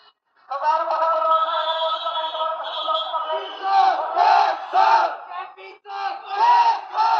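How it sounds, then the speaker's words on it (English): A crowd of protesters near the parliamentary complex shouts and chants in loud, surging waves. The voices rise and fall in bursts over several seconds with no single voice standing out. "But the crowds do not back down."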